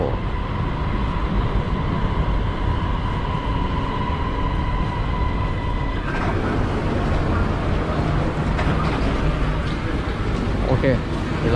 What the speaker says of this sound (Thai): รถไฟมาพอดีเลย